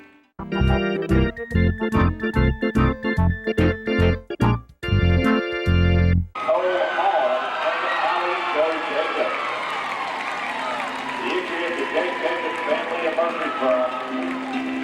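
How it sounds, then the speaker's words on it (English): At a 2023 Tennessee Walking Horse celebration, a few seconds of punchy rhythmic music stabs give way to a broad, steady wash of crowd applause and cheering for an owner-amateur youth walking gelding blue-ribbon winner, filling the arena and holding to the end. "would you send us down victory lane with a nice round of applause?"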